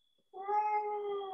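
A single cat meows once, close and clear, a drawn-out tonal call rising after a brief quiet start and holding steady to the end.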